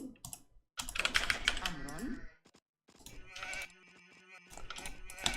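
Sheep bleat in the Age of Empires II video game, with a couple of bleats rising over rapid keyboard clicks, and a voice talks in the background.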